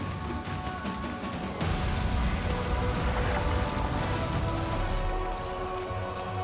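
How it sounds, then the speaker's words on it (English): Constant rain in the video game Valheim during a fight with the Bonemass boss, a steady broadband hiss that swells louder partway through, mixed with muffled game sounds and no talk. "Yeah, we've got the constant rain, which I don't like, while we're fighting the Bonemass"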